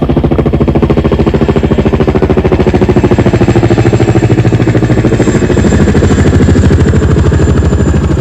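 Heavy CH-47 Chinook tandem-rotor helicopter with a loud, steady rapid blade thump and engine drone, continuous and close throughout with no pauses.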